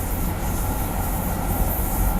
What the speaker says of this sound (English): Well, this is a train simulator, Ryan.